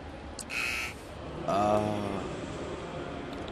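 A short electronic buzzer tone sounds on a sports radio broadcast, then a longer harsh buzz follows, both fairly prominent over low background noise.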